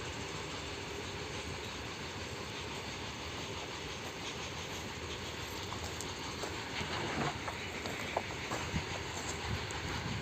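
A freight train rumbles steadily past with a rhythmic clatter of wheels on rails, loud and continuous, with no voices.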